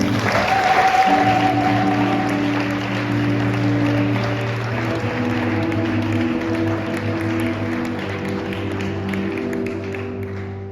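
A church congregation at a Holy Spirit service claps to welcome a priest, scattered applause over sustained musical tones that fade slowly across the stretch.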